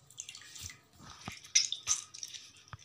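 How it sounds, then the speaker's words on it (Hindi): Water drips and splashes in small bursts as homemade mozzarella is squeezed by hand, a handful of soft wet squelches and trickles heard close up and quiet. "अंदर से हम पानी जो है वो भी निचोड़ लेंगे।"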